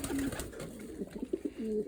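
Pigeons, some of them sick young birds, coo softly nearby in a few short, throaty burbling calls, rising and falling with brief pauses between them.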